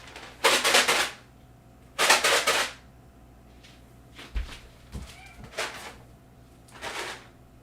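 A cat meows several times in short, loud bursts separated by pauses, with a few fainter meows and small knocks in between, close to the listener.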